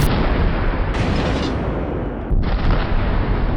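Naval gunfire from warships in World of Warships Blitz, a loud, sustained roar of booming blasts and rumbling that stays dense and close for several seconds with no pause.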